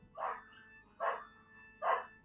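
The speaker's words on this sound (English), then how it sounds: "the dogs are going a bit mental now" Dogs bark in a home after the doorbell rings, with three spaced, moderately loud barks at an even rhythm, no talking over them.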